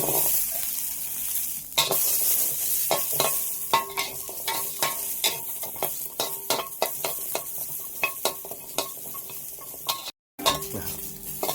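Chilies, garlic and shallots dry-roast in a pan, giving a steady sizzle broken by repeated scraping stirs and light clinks of a utensil, close and fairly quiet with no talking.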